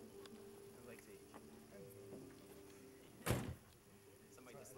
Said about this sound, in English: Somebody just slammed the door.